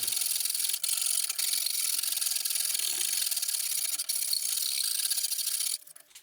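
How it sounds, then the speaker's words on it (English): Hand leveling of a curly maple gourd banjo's wooden fingerboard, a continuous close scratchy rubbing rasp with steady back-and-forth texture that stops near the end. "You really don't want to skimp on the fingerboard leveling."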